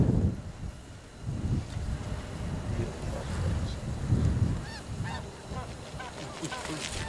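A flock of specklebellied (white-fronted) geese calls during a late-season goose hunt, their high yelping honks coming in repeated bursts against low wind rumble, moderately distant and growing more frequent toward the end.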